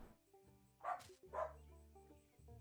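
A pet dog barks twice in the Wild West farming sim game Cattle Country, two short yips over a steady looping game music bed.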